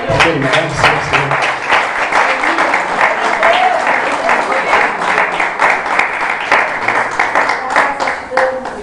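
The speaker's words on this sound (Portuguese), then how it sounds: "Você pode dar uma salva de palmas?" A church congregation applauds loudly and close by, with dense rhythmic clapping sustained throughout and a few voices calling out over the hands.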